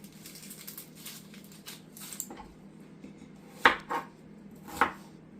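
Sharp knife strikes on a cutting board while onions are chopped, a few soft cuts early then two distinct louder chops near the end over quiet background hiss.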